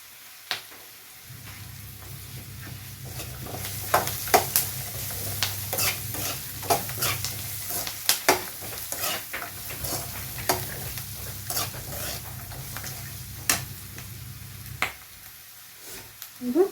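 Steady crackling sizzle of onions frying in a pan for kara chutney, with scattered pops and occasional stirring scrapes, close and continuous.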